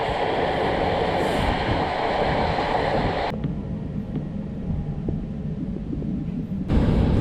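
Old Romanian passenger train in Transylvania runs with a loud continuous rumble, which drops abruptly to a quieter rolling drone, then surges back loud near the end.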